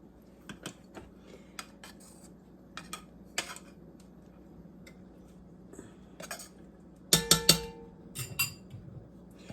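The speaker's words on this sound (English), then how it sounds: "So I'm going to mix it in with my sausage and vegetables." Cooked rice stirred into sausage and vegetables in a pot, heard as scattered close clinks and scrapes of a utensil against the pot, with a louder burst of clatter partway through over a low background hum.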